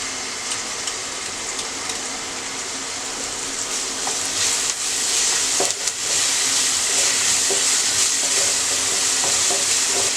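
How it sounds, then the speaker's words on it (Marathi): Chopped onion fries in a spoonful of hot oil over a high flame, giving a steady, close, dense hiss of sizzling with faint stirring scrapes throughout. "फास्ट गॅसवर कांदा फ्राय करून घ्यायचा आहे"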